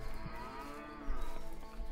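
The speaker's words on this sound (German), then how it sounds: "Alter, Kühe." Cows in the video game A Way Out moo loudly and close by, a couple of long, low calls that swell and fade with no talking.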